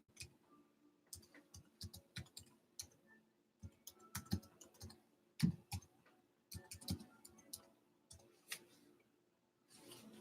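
Bursts of keystrokes on a computer keyboard, irregular clusters of clicks with short pauses between them, close and fairly quiet with no talking.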